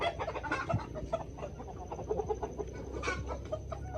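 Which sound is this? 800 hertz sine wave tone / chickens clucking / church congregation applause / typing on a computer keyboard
chickens clucking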